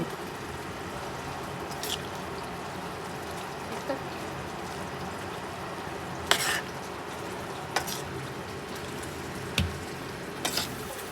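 Chili pickle of bitter green chilies simmers in a pan in a Punjabi home kitchen, a steady low bubbling and hiss with occasional scrapes of a stirring spoon, faint and continuous.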